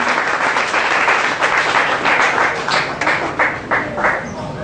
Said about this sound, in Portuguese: Uma salva de palmas pelo nosso Senhor.